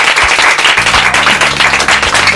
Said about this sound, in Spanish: quiero que les demos un fuerte aplauso